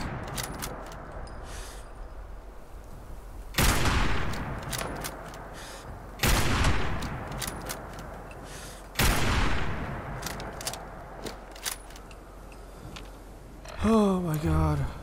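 Gunfire in Fallout 76 against a super mutant, with three or four loud, sharp shots spaced a few seconds apart, each trailing off, plus smaller scattered cracks and a voice speaking near the end.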